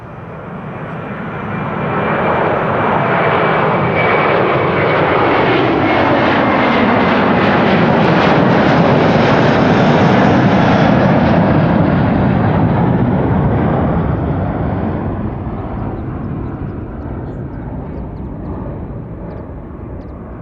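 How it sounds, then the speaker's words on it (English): Delta Airlines Airbus A330 bound for New York JFK, jet engines roaring at Amsterdam Schiphol; a loud, sustained broadband rumble swells over a few seconds, holds steady with a sweeping tone as it passes, then slowly fades, with no voices. "Delta A330 time. This one to New York, JFK."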